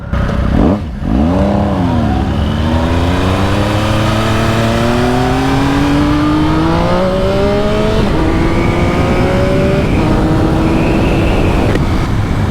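A high-revving 2020 Speed Triple RS sport motorcycle engine roars loudly nearby, its pitch climbing through several rising sweeps as it accelerates and shifts through gears.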